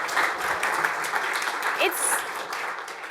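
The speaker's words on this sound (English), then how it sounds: "A round of applause" Audience applause fills a workshop room, a steady dense patter of many hands clapping at moderate level with a few faint voices and whoops mixed in throughout.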